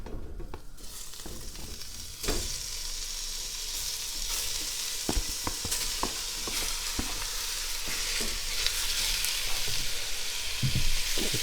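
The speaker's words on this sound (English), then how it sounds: "let's toss in our beef and our red onion and get that browned off" Beef and red onion browning in a pan make a loud, close sizzle that swells steadily, broken by sharp clacks and scrapes of a utensil stirring, no talking.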